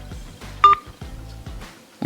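Dialing tones from a Samsung Galaxy Watch 4 as a call is placed: a short, loud electronic tone burst stands out amid low rumbling handling noise, with no speech.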